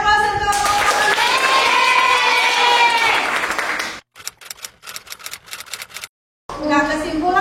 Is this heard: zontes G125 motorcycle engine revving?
no